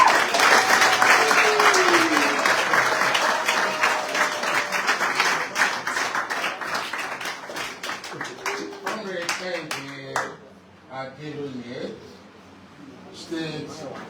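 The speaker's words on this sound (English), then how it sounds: "So please, ladies and gentlemen, a round of applause for our father." Sustained audience applause at a human rights conference in Lagos, loud and dense at first, then thinning into scattered claps with voices talking over it toward the end.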